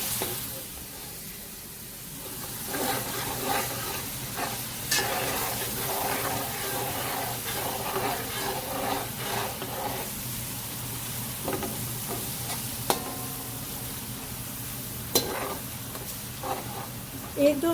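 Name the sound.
garlic and ginger frying on high flame, stirred with spoon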